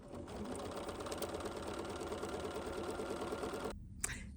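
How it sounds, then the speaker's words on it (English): A Bernina embroidery machine stitches a placement line on poly mesh with a steady, fast, close mechanical whir. It stops abruptly near the end, followed by a single small click. "the first thing that we're going to do is literally just stitch a placement line for"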